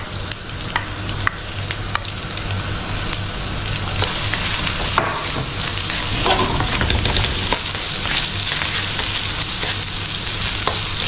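Onions sizzle in hot oil in a pan as the base for corned beef fried rice, a loud steady frying hiss with clinks and scrapes of stirring throughout.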